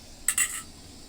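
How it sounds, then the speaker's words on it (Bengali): A metal lid set onto a cooking pot of simmering fish curry, giving two quick, faint metallic clinks in an otherwise quiet kitchen. "জল দেখুন, ঢাকা দিয়ে দেবো।"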